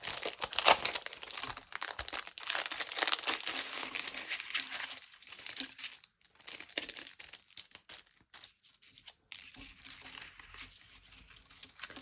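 Packaging of scrapbooking die cuts being opened, with close plastic crinkling and tearing that comes in irregular bursts and gradually softens toward quieter rustles.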